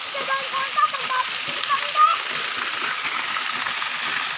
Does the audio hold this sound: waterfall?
yes